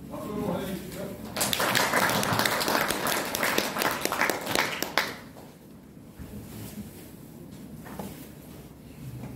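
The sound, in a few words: audience applause welcoming a speaker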